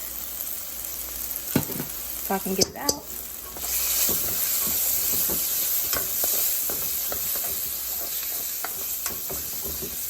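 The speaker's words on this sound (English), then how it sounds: "I kind of like to cook this tomato paste a little bit before I add anything else" Tomato paste and garlic sizzle steadily in a pot for jollof rice and stew chicken, with spoon stirring and scraping clatter early on and a brief spoken remark over the frying.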